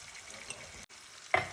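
Chopped raw mango pieces sizzle softly in a pan with salt, turmeric and roasted cumin for a pickle, a steady low frying hiss broken by a brief gap and then a louder stir or clatter near the end.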